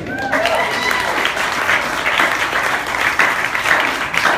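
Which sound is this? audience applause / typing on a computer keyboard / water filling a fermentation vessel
audience applause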